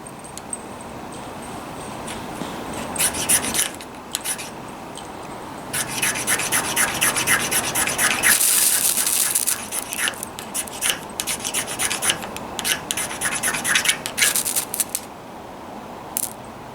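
A scraper drags along a ferro rod in repeated rasping strokes, close and fairly loud, with bursts of quick scratchy passes separated by brief pauses.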